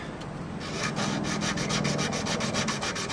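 A violin is hand-sanded to strip the old varnish, making rapid rhythmic back-and-forth scratchy rubbing strokes on wood, close and steady, with no talk.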